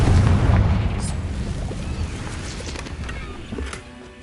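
A blasting spell detonates in Hogwarts Legacy with a loud, deep boom that rumbles and decays over several seconds, followed by smaller debris clatter and a fainter second burst near the end.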